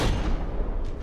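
Heavy cannon fire and an impact explosion in the From the Depths combat game as a rear gun turret takes a direct hit, a dense, loud, sustained booming rumble with no speech.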